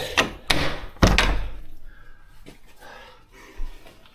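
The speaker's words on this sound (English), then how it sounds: "He slowly closes the front door behind him." A front door is shut in a dark, empty building, landing as a few heavy thuds and knocks that ring out briefly in the quiet space, followed by softer shuffling and faint creaks.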